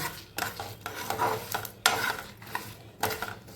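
Grated coconut and sesame seeds dry-roasted in a pan for egg masala, with a rhythmic series of scraping strokes from a spatula and a faint sizzle between them, close and clear.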